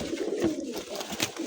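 Pigeons kept in a lot of five birds, a mix of fancy and racing breeds, give soft close cooing over a steady murmur, with a few brief louder notes breaking through.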